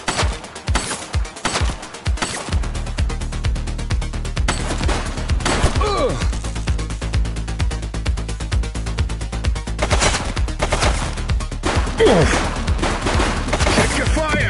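Gunfire in the police video game The Precinct: a quick burst of sharp shots at the start, then scattered single bangs and impacts over a steady background hum, with a shouted voice now and then.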